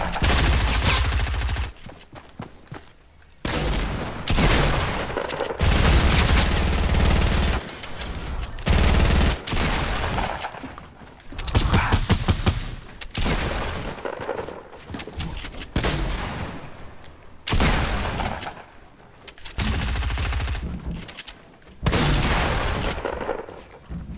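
Heavy automatic gunfire from a turret and booming quad launcher blasts in the video game Fortnite, loud, dense and nearly continuous, with sustained bursts broken by short gaps over about twenty-four seconds.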